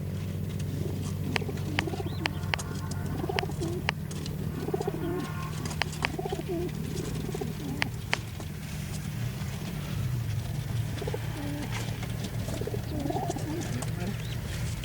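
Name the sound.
racing pigeons cooing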